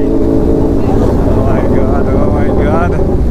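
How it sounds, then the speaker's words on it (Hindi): A motorbike engine drones loud and steady on a mountain road near Darjeeling, with heavy wind buffeting the microphone and a voice speaking over it. "इनका जो बाइक का साउंड सुनो भाई"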